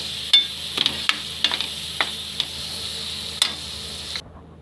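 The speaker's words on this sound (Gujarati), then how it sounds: "હવે આપણે આ ટમેટાને સરસથી સડવા દેવાના છે" Tomatoes cooking with kitchen king masala sizzle steadily in a pan while a spoon scrapes and clicks against it in a series of sharp, irregular knocks, close and fairly loud, with no talking.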